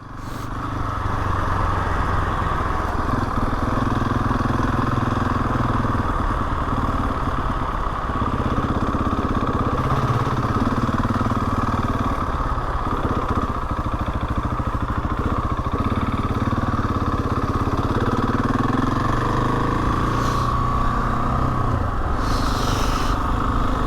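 A motorcycle engine hums steadily and close throughout a sunny ride out on the road, an even mid-pitched drone with small shifts in load and wind rush, no talking.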